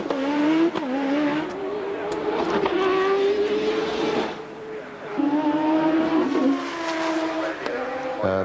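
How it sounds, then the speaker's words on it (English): A turbocharged BMW Formula 1 engine from the turbo era screams past loud and close, its pitch rising and falling through gear changes over about eight seconds, with faint talk at times underneath. "the BMW engine he's got behind him is probably the most powerful"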